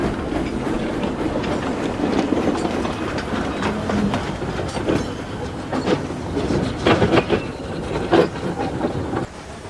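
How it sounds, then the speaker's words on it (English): Steam locomotive drawing passenger coaches up to a station platform, a steady rumble with rhythmic clickety-clack from the wheels and faint hissing, fairly close and alone with no voices. "That morning, Donald brought the coaches for the first train to the platform"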